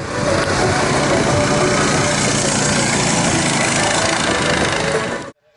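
Loud, continuous engine roar from rally cars racing at a snow rally held in a village, a dense droning rumble that stays steady for about five seconds before cutting off abruptly.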